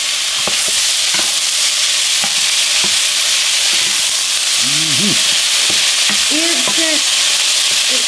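Food fries in oil in a pan for a chili cornbread casserole, a loud constant hiss and crackle with scattered clicks and brief tonal squeaks from the pan or utensil.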